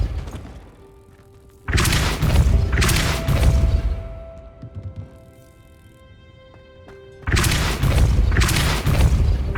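Depulso force spells strike in Hogwarts Legacy as heavy booming impacts, two loud sustained bursts of rumbling blast, each lasting a couple of seconds, separated by a quieter lull with a faint tonal hum.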